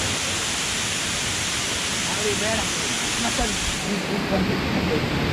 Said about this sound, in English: So we have almost reached this waterfall.